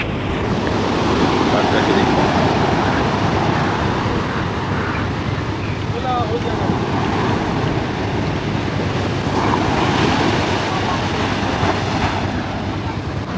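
Sea waves wash continuously onto the shore at a beach on the coast near Shankarpur and Digha, a loud, steady roar mixed with wind rumble on the microphone.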